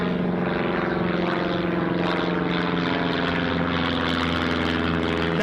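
A small propeller aircraft passes overhead near Newcastle International Airport, its steady droning engine hum loud and continuous throughout, with no talk.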